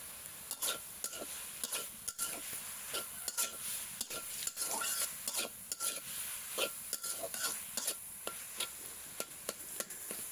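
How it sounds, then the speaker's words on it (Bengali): A spatula stirs bathua greens frying in a pan, making quick repeated scraping strokes over a faint sizzle, quiet and close with no voices. "যতক্ষণ রান্নাটা চুলাই থাকবে এই সময়টা অবশ্যই ঘন ঘন খুন্তির সাহায্যে নেড়ে নিতে হবে"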